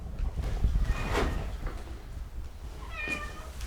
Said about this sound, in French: c'est certainement mon chat